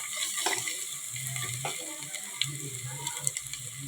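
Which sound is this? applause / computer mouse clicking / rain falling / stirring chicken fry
stirring chicken fry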